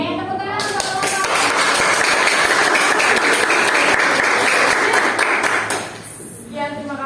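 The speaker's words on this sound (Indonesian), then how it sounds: "tepuk tangan untuk kelompok" A classroom group gets a burst of applause, many hands clapping steadily for several seconds before fading out, with voices heard briefly at the start and end.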